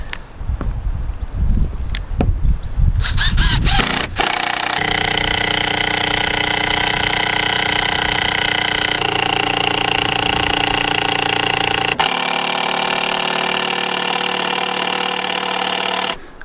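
A power driver drives screws into nailed pallet timbers for a homemade MTB/BMX kicker: a few short bursts and clatters at first, then a long loud continuous motor whine, briefly interrupted once, close and with no talk.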